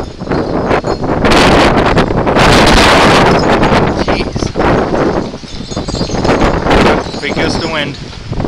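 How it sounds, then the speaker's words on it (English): Strong thunderstorm gusts buffet the microphone in the middle of a street, loud roaring bursts of wind that swell and ebb over several seconds. "Big gust of wind."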